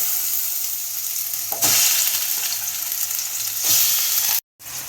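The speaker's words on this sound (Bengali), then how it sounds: "এবার ম্যারিনেট করা চিকেনগুলোকে দিয়ে ভেজে নেব।" Marinated chicken frying in white oil in a wok gives a loud, steady sizzle and crackle that runs almost unbroken. A brief silence falls near the end.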